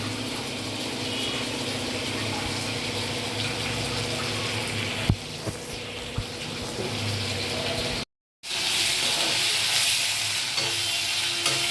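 Grated, squeezed radish sizzles and fries in a pan for a chutney, a steady loud hiss with occasional stirring clatters and a brief gap midway before the frying noise resumes brighter.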